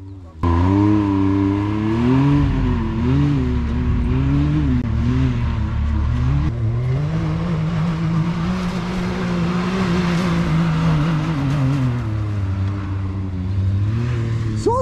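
A Can-Am Maverick X3 RS UTV engine drones loud and close off-road in the Serra da Bocaina, revving steadily with pitch rising and dipping as it accelerates, sustained throughout with people talking over it.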